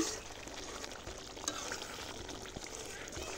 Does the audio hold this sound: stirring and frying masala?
yes